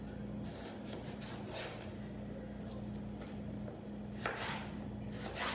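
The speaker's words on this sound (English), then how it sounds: "You can stack them up and then slice." A chef's knife slicing through stacked potatoes on a board to make hand-cut chips, a few scraping cuts over a steady background hum, with a sharper chop near the end.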